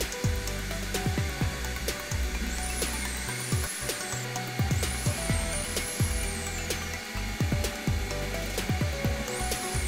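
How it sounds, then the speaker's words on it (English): A Kreg Foreman pocket hole machine drills pocket holes in wood cabinet supports, its motor whirring in repeated short bursts with sharp thumps as each cycle ends, close and loud in a workshop. "we are going to drill pocket holes in them to attach them with pocket screws and glue"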